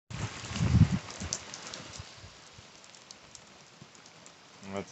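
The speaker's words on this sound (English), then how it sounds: "Right on schedule, the rain arrives." Rain arrives at a mobile home, a soft continuous patter with a few nearer knocks and thumps, while a person talks over it.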